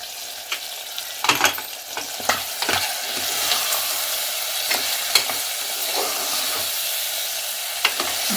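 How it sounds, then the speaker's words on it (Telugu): Kandana kaya beans frying in hot oil for a chicken curry give a steady bright hiss and sizzle, with occasional spoon stirs and clinks against the pan, close and continuous, no talk. "మంచివి నూనెలో గోలినవి కందనకాయలు."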